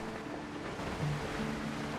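Steady rush of ocean waves and wind around a sailing ship in the video game Windrose, a continuous mid-level wash with no distinct breaks and no talking.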